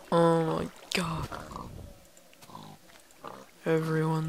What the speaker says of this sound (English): I heard a pig get killed.